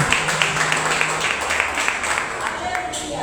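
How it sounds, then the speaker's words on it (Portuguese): A church congregation claps together during an evening service, a steady, moderately loud wash of applause with voices mixed in. "Recebe o servo do Senhor nessa noite, com as palmas para Jesus, em nome de Jesus."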